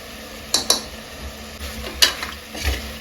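Spoon scraping and clinking against a pan while masala with turmeric is stirred, a few sharp metallic strokes over a low background sizzle, close and alone.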